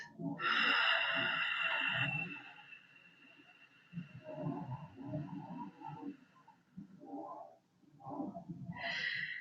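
Deep meditative breathing during a guided meditation: one long, loud, airy breath up front, then softer voiced murmurs and breaths that come and go until the end.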